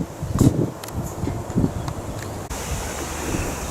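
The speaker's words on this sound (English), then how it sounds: "I didn't really plan on wind sound" Gusty wind at Thorntons Holt campground buffets the microphone in low rumbling surges, steady broadband rush throughout with no talk.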